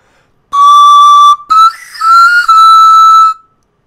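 Close, loud pan flute melody using half-tonguing on a Korean song: a long steady note, a quick break, then a loosely slurred, barely voiced transition into further sustained breathy tones that fade out.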